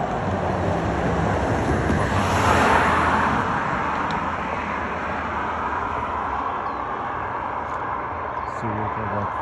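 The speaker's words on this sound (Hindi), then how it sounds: "सुबह का वक्त है, कुछ ट्रैफिक भी है" Morning road traffic on a cold day passes as a steady, broad rumble and whoosh of vehicles, fairly close and continuous, with wind buffeting the microphone.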